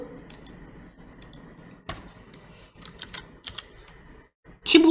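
Keys tapped on a computer keyboard, a few scattered clicks over a quiet room tone, ending with a louder burst of clatter.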